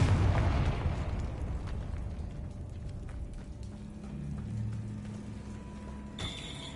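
A Confringo spell in a video game sets off a heavy explosion, a close boom that opens the clip and fades into a long low rumble, with a brief bright burst near the end.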